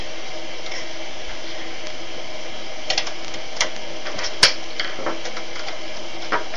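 Small metal screws being driven back into an Xbox with a Torx wrench: a steady machine-like hum with scattered faint ticks and a few sharper clicks, close up, no talk.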